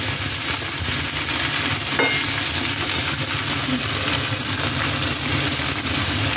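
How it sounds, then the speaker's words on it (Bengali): Vegetables with salt fry in a pan for a drumstick-and-bottle-gourd curry, producing a loud, constant sizzle with faint stirring, close by, with a steady high whine in the background and no speech. "দিয়ে আমি একটু নুন দিয়ে দেবো, দিয়ে ঢাকা দিয়ে এটা ভাজবো"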